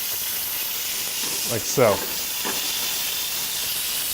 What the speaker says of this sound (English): You hear that sizzle? That means it's going to get a really nice crust on it.